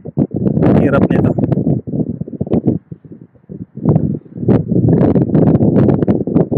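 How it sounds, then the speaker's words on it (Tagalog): Outdoor wind buffets the microphone in heavy, irregular gusts during a sunny workout, with loud rumbling bursts separated by short lulls and some talk underneath. "Buti yung mahangin kahit pa paano."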